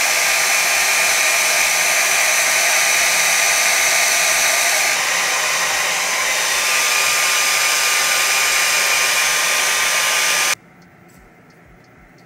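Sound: hair blow dryer on warm setting

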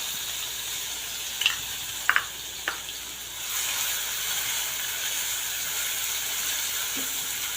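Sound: onion frying in a pan with curry leaves

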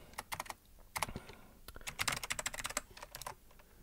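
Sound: typing Ctrl D on a computer keyboard to delete a line

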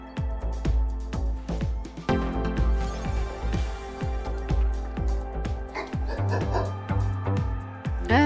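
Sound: dog barking and whimpering

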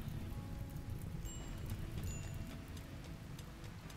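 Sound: rain falling in the video game RimWorld

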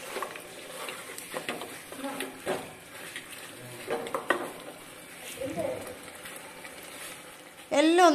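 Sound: stirring spices in a pressure cooker

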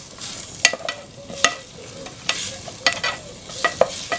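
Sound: stirring paprika into bean stew with chorizo

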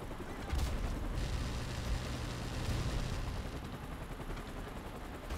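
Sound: RPG fire from bots in video game Call of Duty H1

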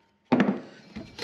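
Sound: tapping a metal disc into a brake hub

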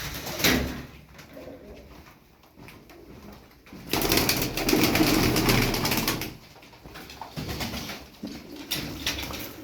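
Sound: pigeons cooing

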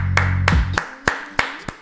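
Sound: applause for a football chip shot

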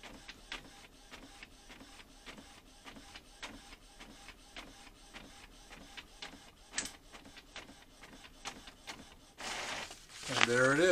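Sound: printer printing from an Amazon Fire 8 tablet

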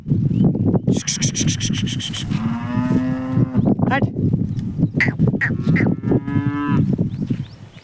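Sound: ox lowing

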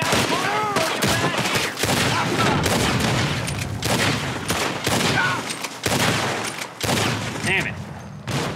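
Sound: gunfire in the video game Red Dead Redemption 2

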